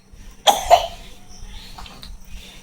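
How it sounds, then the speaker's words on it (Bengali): A small child coughs a couple of times in quick succession, close and fairly loud, followed by a quiet room with faint background noise. "কাশি হচ্ছে সোনা মাম্মামের।"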